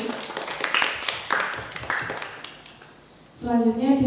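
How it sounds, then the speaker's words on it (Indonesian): Seminar audience applause, a dense patter of many hands clapping at moderate loudness for several seconds, fading before a voice begins speaking near the end. "Sebelumnya kita beri tepuk tangan dulu kepada Mas Homyadi Badosi."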